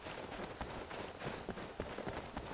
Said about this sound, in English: Oh, God, the horses!